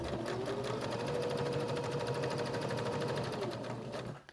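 A sewing machine stitches steadily without pause, basting a fabric pocket along a narrow edge for a portable tic-tac-toe game project, the running motor loud and close before stopping abruptly at the end.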